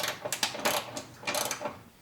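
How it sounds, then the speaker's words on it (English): A hand ratchet fitted with a 1/2 inch socket loosens the grille bolts of a Jeep with a 4.0L engine from behind, through the wheel well, giving a quick run of close, faint clicks in uneven bursts. "we need to remove those 6 bolts from the back side using a 1/2 inch socket through the wheel well"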